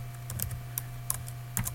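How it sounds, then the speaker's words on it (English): Sparse keystrokes on a computer keyboard while entering a file path on a Windows 8 PC, a few scattered clicks and short bursts over a steady low hum, with no voices. "what we're going to be typing here is, we're going to go percentage sign"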